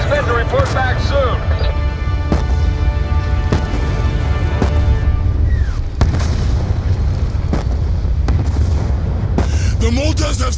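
Mortar fire in the Call of Duty: Black Ops 2 campaign, heavy booming impacts and artillery blasts repeating throughout over a continuous low rumble of battle.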